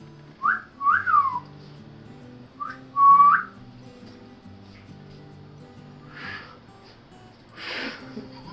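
A person tries to whistle during a family barbeque at home, producing a few short, wavering whistled notes up close, then breathy failed attempts that fade into air.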